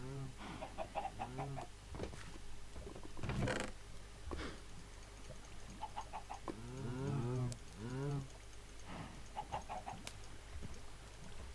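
Several Minecraft cows moo in turn, low drawn-out calls with gaps between them, mixed with clicks, clatter and a brief chicken cluck.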